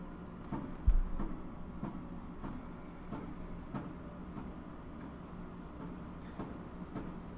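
Steady rumble of a train running on rails in Train Simulator on a UK commuter line near Welwyn Garden City, with a low continuous roll, faint periodic clicks of wheels over joints and one brief thump near the start.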